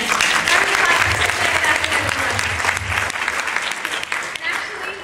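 Audience at a Her Universe panel during San Diego Comic-Con 2011 bursts into loud, sustained applause that fills the hall, holding steady before easing slightly toward the end.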